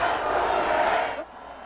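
A crowd of supporters outside a private residence in Dalseong cheers as former president Park arrives at noon, a dense, loud roar of voices that cuts off abruptly after a second or so.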